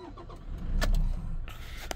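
Toyota Hilux engine starting with a brief cranking burst that swells into a low rumble, close and moderately loud, then settles to a steadier idle with a few small clicks.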